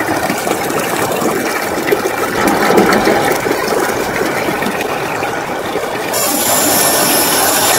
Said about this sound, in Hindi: और ये फाइनली मोटर ने पानी उठा लिया है।